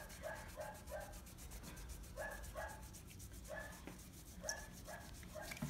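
Cloth scrubbed hard against a ceramic mug to remove dried nail polish, rhythmic rubbing strokes in short repeated pairs, close but faint.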